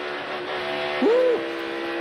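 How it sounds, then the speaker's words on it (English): A NASCAR stock car at the 2022 Goodyear 400 snaps loose as the driver lifts off the gas, a brief sliding squeal rising then falling over the steady engine drone of the field. "that car got loose. You heard him bail out of the gas and grab a handful of wheel"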